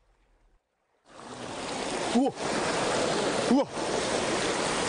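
River water rushes steadily as someone wades in a stream to catch fish and shrimp, a broad close hiss that starts suddenly, with a brief exclamation near the start.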